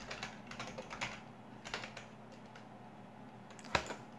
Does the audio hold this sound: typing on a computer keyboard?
yes